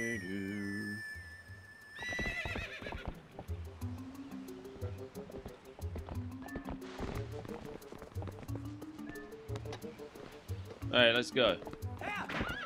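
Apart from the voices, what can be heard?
horse neighing and galloping, from video game Zelda: Twilight Princess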